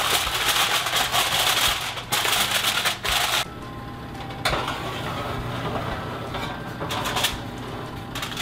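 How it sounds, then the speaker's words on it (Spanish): Aluminium foil being torn off and crinkled over a pan of coconut flan in a kitchen: bursts of close, sharp rustling and crackling that trail off into quieter handling noises. "Pero antes de llevarlo al horno, papel de aluminio"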